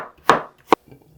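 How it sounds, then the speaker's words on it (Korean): A knife chops through raw potatoes, cutting them into bite-size pieces on a board, with two distinct, sharp, close cuts followed by faint handling noise. "먹기 좋은 크기로 모양으로 썰어주세요"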